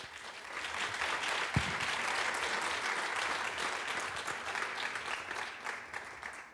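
A conference audience at a round-table discussion claps together, a sustained even patter of many hands at moderate distance that slowly thins toward the end.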